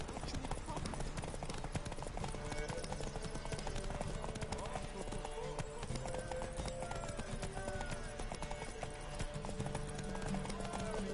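Hoofbeats of Roach, Geralt's horse in The Witcher game, clip-clop in a steady galloping rhythm throughout, with an occasional whinny, all beneath continuous game music and background sound.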